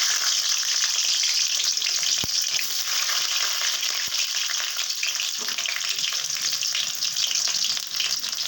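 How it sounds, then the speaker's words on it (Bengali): Garlic frying in hot oil in a kadai sizzles loudly and continuously at close range, a bright crackling hiss with a couple of sharp taps partway through, no talk. "কড়াতে তেল দিয়ে দিয়েছি, তেলটা গরম হয়ে গেছে। দিয়ে দিচ্ছি রসুন"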